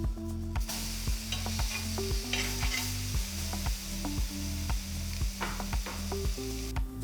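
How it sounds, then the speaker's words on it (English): A burger patty sizzling on high heat in a pan with an onion mixture, a loud continuous close sizzle with scraping stir sounds over a steady low hum. "Continue cooking our patty in the mixture we've made for about 3 minutes."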